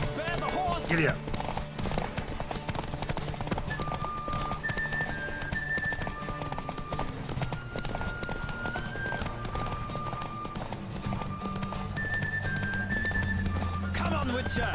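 Rapid hoofbeats of a racing horse in The Witcher 3: Wild Hunt drum continuously and up close, layered with melodic music notes and brief speech.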